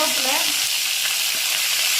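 Curry leaves crackle and sizzle as they drop into hot tempering oil for a tamarind pongal, a bright, continuous frying hiss with sharp pops near the start.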